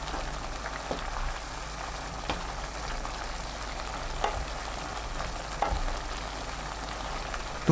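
Kabocha squash and shishito peppers stir-frying over high heat, a steady sizzle broken by several sharp scrapes and clacks of a utensil against the pan, with no talking.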